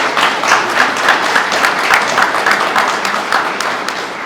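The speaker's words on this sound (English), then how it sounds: "So give them a round of applause." Applause from a crowd at a recruit class graduation ceremony for the academy cadre, loud, dense clapping sustained evenly throughout without talk.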